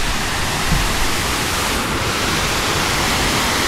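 The cascade at Twin Falls in Kalayaan, Laguna, a secluded jungle waterfall, pours as a loud, unbroken broadband roar, close and steady with no voices.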